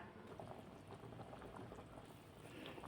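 Pork simmers in a pot of yanang leaf broth with a steady, soft bubbling and gentle burbling that holds evenly throughout, faint and close with no voices.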